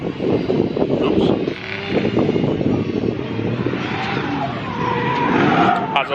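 A drift car skids off the track during pro drifting at a BDC event at Three Sisters. Tyre noise and engine roar surge loudly over several seconds while people talk over it.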